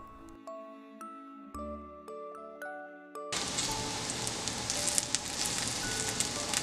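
Gnocchi frying in butter in a nonstick pan, a loud steady sizzle that starts abruptly halfway through after a stretch of soft music, continuing close and unbroken to the end.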